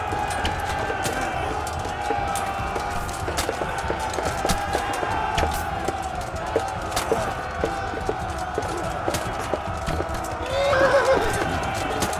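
A horse whinnies loudly during a battle in Kingdom Come Deliverance, with hooves clip-clopping, steady combat noise and crowd din beneath it, and a sharper neigh near the end.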